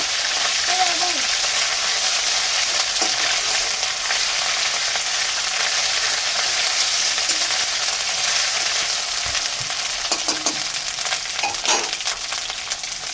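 Ginger garlic paste fries with browned onions, a loud continuous sizzle close by, broken by occasional scrapes and clinks of stirring near the end.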